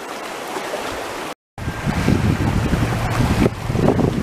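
A river's strong, dangerous current rushes past a shady spot during a hot day of gold panning and fishing, a steady close wash of flowing water with a brief dropout partway through and no talking.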